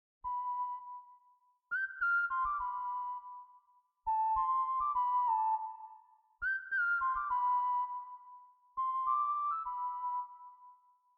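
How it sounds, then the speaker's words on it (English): A whistle-like retro synth preset called Cheerful Melody plays a bright, pure-toned melody in four short phrases. Each phrase opens on a held note and then steps through a few gliding notes, with soft low thumps underneath and near-silent gaps between phrases. "a sort of like a whistle that sounded like it was playing in a forest"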